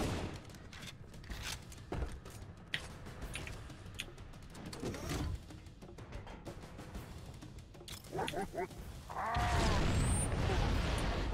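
Rocket and grenade blasts in the game Halo CE, with rumbling bursts and booms mixed with game noise at moderate loudness, ending in a louder sustained blast.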